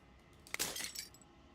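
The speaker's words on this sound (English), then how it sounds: "As the final fragment shatters, you see yourself with newfound clarity." A glassy fragment shatters in the video game Slay the Princess, a sudden bright crack followed by a brief cascade of tinkling shards that quickly fades, heard alone and moderately quiet.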